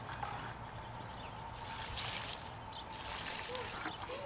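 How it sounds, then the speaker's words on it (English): Water poured onto the soil around a newly planted apple tree, a steady trickling, gurgling flow that is close and moderately loud, with brief splashy bursts as the pour changes. "I'm going to add a little more water."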